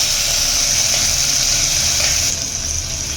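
Finely chopped onion sautéing with ginger and garlic for dal khichdi makes a loud, steady, close sizzle that eases slightly toward the end.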